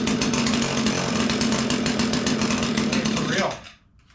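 A two-stroke lawn equipment engine pull-started after its winter sleep runs with a loud, rapid buzzing rattle for about three seconds, then dies away abruptly.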